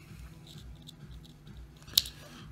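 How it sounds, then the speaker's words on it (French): Scissors snipping excess cotton for a Royal Hunter dripper: one sharp, close, fairly quiet cut that stands out against faint background handling noise. "On va couper l'excédent du coton."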